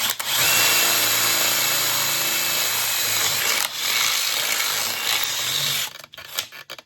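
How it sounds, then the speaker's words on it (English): A power drill bores a hole through aluminum for a trailer ramp bracket, a loud, close, continuous whine for about six seconds before cutting off into a few small clatters. "This, remember, is aluminum, so it's pretty easy to punch out and drill."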